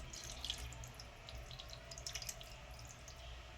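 Water poured over a Ganesh idol during a home abhishek ritual: a steady soft trickle and splashing with scattered bright drips, fairly quiet and close, with no talking.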